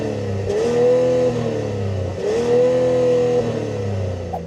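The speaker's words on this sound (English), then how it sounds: "you have sweet, sweet exhaust for that sweet, sweet inline 6 engine. Here's what that sounds like" A Mazda CX-80 family SUV's inline six-cylinder engine is revved twice through its exhaust, each loud rise held briefly then falling back to idle, close to the microphone with no talking.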